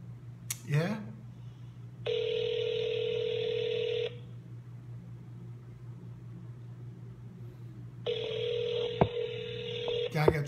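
Two bursts of telephone keypad dialing tones, each lasting about two seconds with a gap between, loud against a steady low hum, with brief background voices around them.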